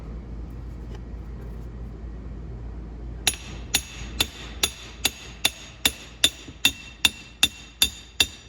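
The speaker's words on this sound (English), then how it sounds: "We'll just give this shaft a tap here and see if it'll come out." Metal hammer blows tapping out the rear axle shaft on a 2012 Honda 420 ATV, about a dozen sharp, evenly spaced ringing strikes starting a few seconds in and growing slightly louder, over a low steady background hum.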